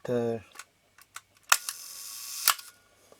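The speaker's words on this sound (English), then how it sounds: "The shutter clicks" Shutter of a Nikon F film camera with a faulty slow speed fires, giving a couple of sharp close clicks with a short mechanical whir between them, preceded by a brief burst of speech.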